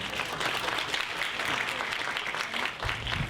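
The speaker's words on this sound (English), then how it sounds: "Big, big round of applause for Laura Bonnell." Audience applause at a foundation networking night, a dense, loud wash of many hands clapping continuously in an indoor room, with crowd noise mixed in.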